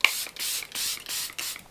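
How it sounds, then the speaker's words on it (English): Charlotte Tilbury setting spray misted onto a face in four or five close, loud hissing bursts, each lasting roughly a quarter to half a second with brief gaps between, no talking. "And then I'm going to do my Charlotte Tilbury setting spray"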